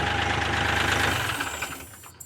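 A Kioti tractor engine shuts off: a steady idling rumble runs, then winds down and fades into quiet, ending with a faint click.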